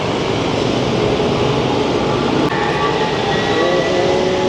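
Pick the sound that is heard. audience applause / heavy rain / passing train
passing train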